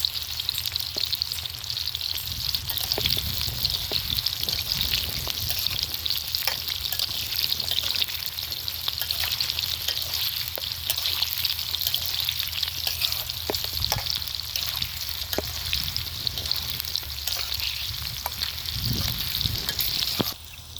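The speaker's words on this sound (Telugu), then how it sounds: "ఉల్లిపాయలు అయితే ఇంకొంచెం వేగాలి." Onions and green chillies fry steadily in a hot pan, with a continuous close sizzle and occasional stirring clatter throughout.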